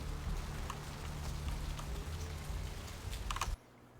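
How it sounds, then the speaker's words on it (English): Steady rain patters and hisses continuously in Vampire: The Masquerade - Bloodlines, with a few faint clicks mixed in, before cutting off abruptly near the end. "Can I just stand with the rain so you guys have some ambient noise?"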